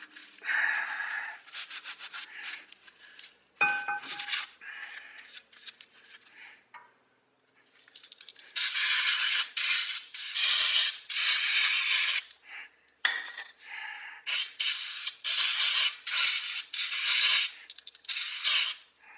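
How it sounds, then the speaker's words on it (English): A C-clamp compressing a brake caliper piston on a Nissan Maxima gives close, intermittent metallic scraping and grinding bursts in uneven clusters, separated by short quiet gaps. "now I'm going to go ahead and compress it with a C-clamp"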